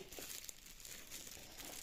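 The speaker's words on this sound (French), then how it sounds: "c'est enveloppé dans du papier de bulle" Bubble wrap packaging being unwrapped from a diamond painting kit order, a steady close crinkling and rustling of plastic throughout with brief sharper crackles.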